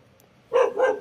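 A pet dog gives two quick, close barks in a garden where pechay is being planted, sharp and loud against near silence.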